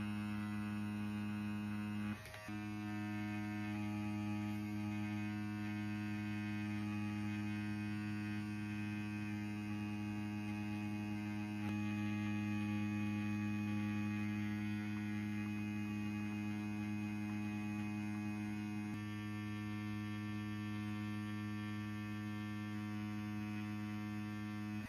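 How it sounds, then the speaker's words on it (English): A Bronc Max V12 wireless tattoo machine runs with a steady electric buzz and hum for the whole stretch, close and constant, with one brief click early on and no talking. "It's running, you know, just about like other machines do."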